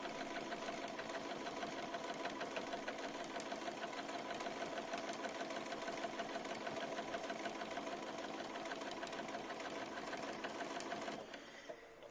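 A SuiSei A9S sewing machine sews quilt binding with a steady, rapid mechanical stitching hum, close and continuous, stopping abruptly near the end.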